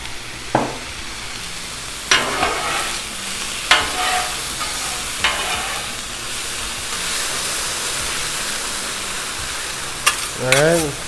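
Diced jalapeño, tomato and scallion greens sizzle on a Blackstone flat-top griddle: a steady, loud hiss with several sharp scraping spatula strokes spaced a second or two apart, close up and without talk.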